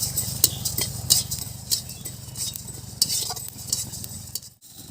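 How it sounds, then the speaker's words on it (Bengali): Whole coriander, cumin and fennel seeds dry-roast in a pan, stirred close up with repeated scraping strokes over a faint, dry sizzle before it cuts off at the end. "এগুলোকে একটু শুকনো খোলায় ভেজে নেব।"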